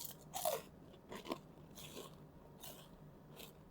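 A crusty bread roll bitten into with a loud crunch, followed by several quieter crackling chews in a quiet room.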